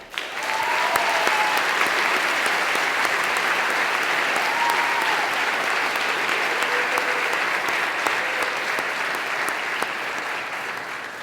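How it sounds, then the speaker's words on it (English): A large crowd at a school baccalaureate ceremony applauds steadily and evenly for several seconds, the clapping fading slightly toward the end. "Please join with me in giving this incredibly dedicated faculty a round of applause."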